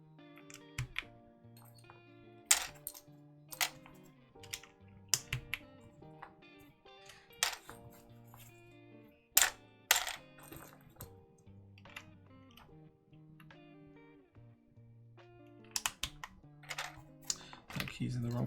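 Keycaps are handled while a keyboard is built, giving sharp, scattered plastic clicks and clacks in irregular bursts, fairly close, with quiet stretches and low tonal hum between them.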